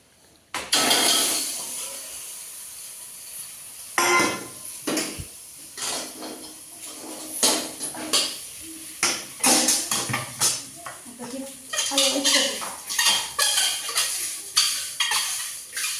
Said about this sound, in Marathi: हे अंडे टाकते